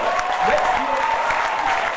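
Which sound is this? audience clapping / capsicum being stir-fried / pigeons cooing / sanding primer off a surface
audience clapping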